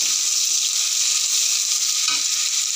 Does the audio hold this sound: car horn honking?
no